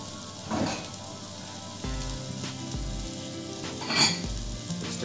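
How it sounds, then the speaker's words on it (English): Garlic and shallots sizzle in olive oil in a small pot for a mushroom risotto, a continuous close crackle with a few louder bursts of spitting and a faint steady hum beneath. "the shallot and onion, tossed in olive oil"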